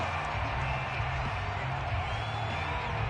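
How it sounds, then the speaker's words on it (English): A large football stadium crowd shouts and murmurs as a steady wash of noise, dense and distant, holding level throughout without a clear peak. "Plenty of shouts from this crowd as they watch the replay"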